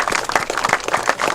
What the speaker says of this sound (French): Alors pourquoi ne pas applaudir pour le Seigneur et pour sa parole?